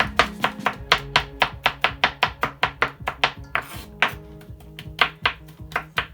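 A knife chopping garlic on a board, roughly twenty close, crisp strikes at a quick, fairly even pace, with a brief pause partway through and no talking.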